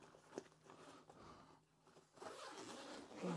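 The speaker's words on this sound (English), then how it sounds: "you can unzip this one as well" A zipper on a Rhinowalk 40 to 60L motorcycle bag is pulled open in a few quiet, short raspy strokes, with fabric rustling, faint and close.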